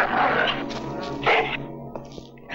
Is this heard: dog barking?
yes